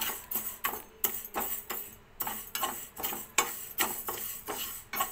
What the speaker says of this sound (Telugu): అన్నీ రోస్ట్, ఊరికే డ్రై రోస్టే అండి ఇవన్నీ